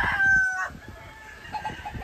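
Rooster crowing at a cockfighting pen in San José Ojo de Agua, Mexico: one close, loud crow at the start, followed by softer clucking and faint farmyard noise.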